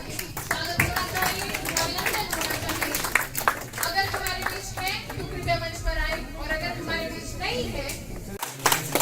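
Audience applause welcoming a guest onto the stage at a public event, a steady wash of clapping lasting throughout, loud and close, with crowd chatter mixed in.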